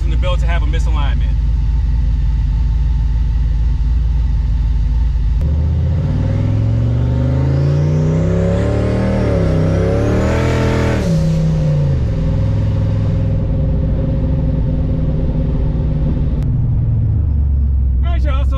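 A turbocharged SN95 Mustang idles roughly, then revs sharply, climbing to a high whine before dropping back to a lumpy idle. The engine is close and loud, with no talk over it.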